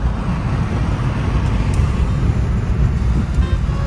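A Honda car, a City or WRV, accelerating hard in a road race, its engine and road roar loud and continuous from inside the cabin, with traffic around it and a brief toot.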